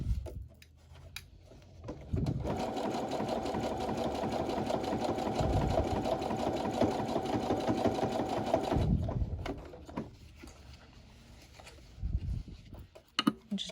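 A sewing machine stitches the lining of a two-piece dance set around the neck hole, running in one loud, steady whirring burst of about seven seconds, with quiet handling noises before and after.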